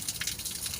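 Water gushes steadily from a newly installed tap at an eco-friendly mosque, a short close burst of hissing, splashing flow with no voices.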